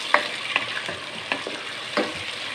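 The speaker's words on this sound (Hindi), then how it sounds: "ये अब इस घी में डालेंगे, घी गर्म है। और इसको नाजरीन हम फ़ौरन मिक्स करेंगे।" Pieces of chicken go into hot ghee and are quickly mixed, giving a soft frying sizzle broken by several sharp clinks and scrapes of the stirring spoon.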